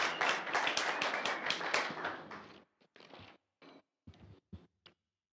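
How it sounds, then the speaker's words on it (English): Delegates at a political elective congress give a round of applause, dense clapping for a couple of seconds that thins into a few scattered, separate claps before stopping. "And a round of applause"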